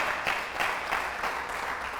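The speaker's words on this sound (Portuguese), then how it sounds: "dá um aplauso a Ele por isso" Church congregation applauding during a worship service, a soft, steady patter of many hands clapping with faint rhythmic pulses, fairly distant and quiet throughout.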